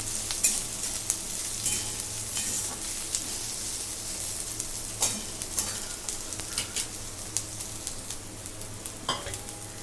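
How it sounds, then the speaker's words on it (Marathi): Slit green chillies roast in a pan, a close, continuous sizzle with frequent light clicks and scrapes from stirring. "हे मी मिरची भाजून घेते"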